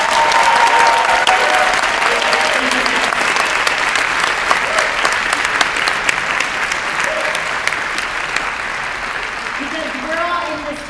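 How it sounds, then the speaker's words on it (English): A large crowd applauds at a congressional inaugural address in New York, dense and sustained clapping at full volume throughout, with some voices and cheers mixed in. "So give them a big round of applause."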